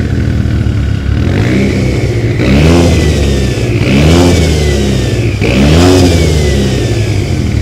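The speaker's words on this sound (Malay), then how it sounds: "Tapi yang ni bunyi dekat exhaust pun korang dah boleh tahu lah." A turbocharged Mitsubishi Lancer Evolution X engine revs hard in repeated surges, pitch sweeping up and falling back about three times, loud and close with a steady rumbling base and turbo sound from the exhaust.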